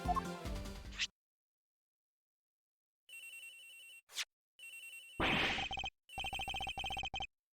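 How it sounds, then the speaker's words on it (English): A phone rings in Ace Attorney Investigations: Miles Edgeworth after a burst of game music cuts off. Repeated electronic trills come in clipped, evenly spaced pulses, clear and alone. "Agent Hicks's phone, it's ringing from somewhere, sir"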